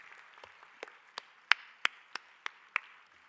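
At a Bharatanatyam arangetram recital, sparse, sharp hand claps ring out faintly in a hall for the accompanying musicians, about eight distinct claps spaced at a loose, steady beat over quiet room tone.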